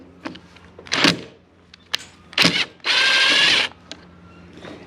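A power drill backs screws out of an ATV ignition housing, close and loud: several short bursts of whirring with a longer steady run near the end, separated by quiet gaps and light clicks.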